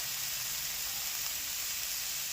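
Masala with turmeric and red chili powder sizzles steadily in a hot pan, a continuous bright frying hiss at moderate level with no pauses or voices.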